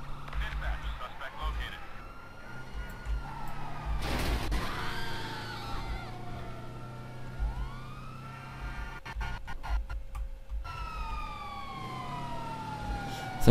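Police sirens wail and warble in Grand Theft Auto V during a chase, several overlapping sweeping tones rising and falling over game engine and crash noise, with someone talking over them.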